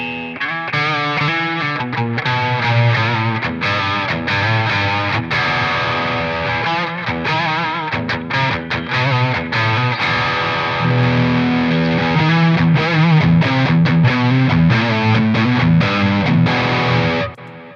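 Overdriven electric guitar through the built-in distortion channel of an Epiphone ES-355 Shinichi Ubukata model, played continuously with dense chords and riffs, loud and alone without talk.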